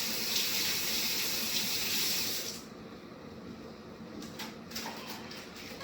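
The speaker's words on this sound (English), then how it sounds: "I'm just going to wash my hands" Tap water runs steadily into a sink for hand washing, a broad hiss that holds for a few seconds and then drops a little softer with faint splashes near the end, close by.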